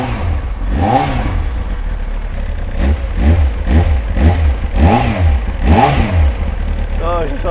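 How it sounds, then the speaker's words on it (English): A Kawasaki ZX-9R motorcycle engine, freshly serviced with new oil, is revved up close in a series of sharp blips, each rising and falling in pitch over a steady idle. "Oh, I love the sound of this bike."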